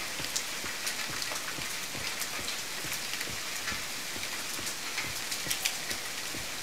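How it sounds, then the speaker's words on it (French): Rain falling in the survival video game The Forest, a quiet steady patter with scattered sharper drops ticking on surfaces throughout, no voices. "Toujours le bruit de la pluie dégueulasse."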